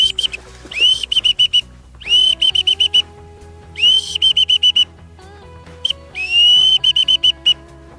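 A person imitates a whistling duck with repeated bursts of high, clear whistles in short clusters, loud and close, with pauses between phrases.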